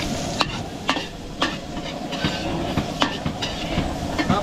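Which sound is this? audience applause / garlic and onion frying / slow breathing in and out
garlic and onion frying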